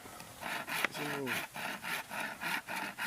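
A handsaw cuts firewood in a rural province with rhythmic back-and-forth strokes, each rasping pass close and distinct, while a voice speaks briefly in the background.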